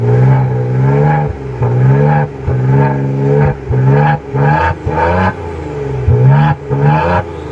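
A Maserati Quattroporte SQ4 3.0 V6 twin-turbo engine revs repeatedly, rising and falling in strong bursts with brief drops between, loud and close with no talking.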